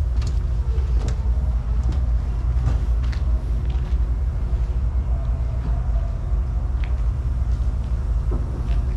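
Amtrak train pulling into the Washington, D.C. station in winter, drawn by a diesel locomotive: a steady, loud low rumble fills the whole stretch, with faint metallic squeals and clanks rising now and then.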